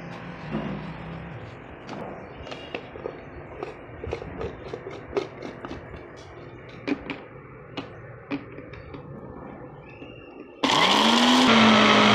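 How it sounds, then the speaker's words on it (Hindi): An electric grinder pulverising homemade pulao masala spices, a dense rattling churn of hard whole spices knocking inside the jar, then a loud smooth high motor whine as it spins up at full speed near the end. "ये अब दोबारा पीसूँगी।"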